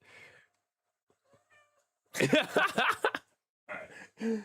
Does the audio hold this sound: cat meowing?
yes